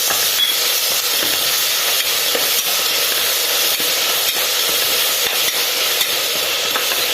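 Chopped green chillies sautéing in a hot pan for Kerala-style vegetable kurma, a steady close sizzle and hiss with faint stirring scrapes, no talk.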